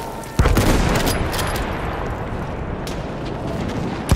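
Enemy machine gun fire in Battlefield 1 opens with a sharp burst, then sustained rattling gunfire and distant blasts roll on loudly, with a few crisp shots cutting through near the end.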